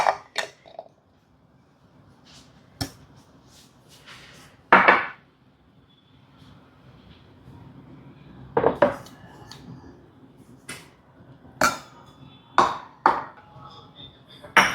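A spoon mixes garam masala, turmeric, coriander powder, chili powder and salt into food in a pot, making intermittent clinks and scrapes against the metal spread over the clip, with quiet stretches between them.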